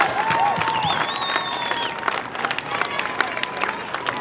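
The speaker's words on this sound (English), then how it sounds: "give these folks a huge round of applause" A standing ovation at Summerfest for a local engineering company's crew, the crowd clapping and cheering loudly in a dense wash, with a few whistles ringing out above it and voices mixed in.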